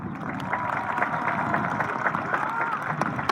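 Sustained applause and cheering from a crowd at a 2019 high school graduation ceremony, a dense steady patter of many hands clapping with crowd noise underneath.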